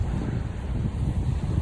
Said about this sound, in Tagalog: Because it's the wind.